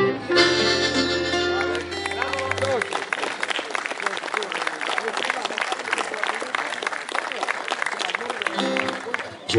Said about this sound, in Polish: Dziękujemy Państwu za serdeczne brawa